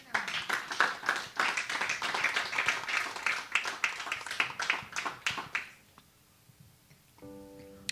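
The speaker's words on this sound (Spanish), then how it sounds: "Dale un aplauso a Dios." A church congregation claps for God during a sermon, with brisk, uneven hand claps building for several seconds and then dying away into quiet.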